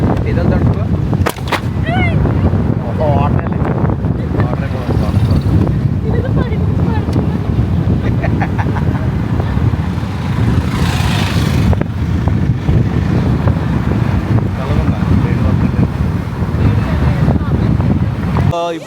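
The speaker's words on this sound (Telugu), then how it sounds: "ఇప్పుడే బీచ్కి వచ్చాం," Strong wind and surf at Perupalem beach make a loud, constant roar with heavy microphone buffeting and a few sharp thumps, while voices talk through it.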